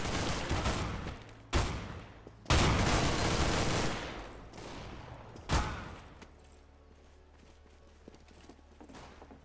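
Gunfire in Counter-Strike: Global Offensive: a sharp shot, then a longer loud burst of rapid fire and one more sharp report, followed by quieter game ambience.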